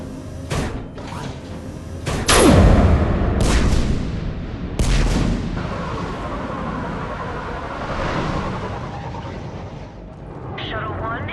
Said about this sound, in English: Have the guns punch a hole in the perimeter